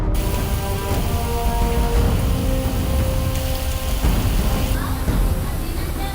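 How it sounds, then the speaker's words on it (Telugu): Heavy rain pours steadily and loudly with strong wind, a dense continuous roar with gusty noise throughout. "ఈదర ఈదరగాలి బయ్య బయ్య వాన"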